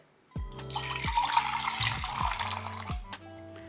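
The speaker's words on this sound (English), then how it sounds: "Back and forth. This will absolutely start to froth your milk." Chai tea with milk is poured back and forth between vessels to froth it, a close, splashing gurgle of liquid streaming steadily for a few seconds, heard alone.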